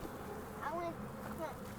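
Honeybees buzz around a nucleus hive being installed on a farm, a steady droning hum with a couple of louder passes as bees fly close, alone without talk.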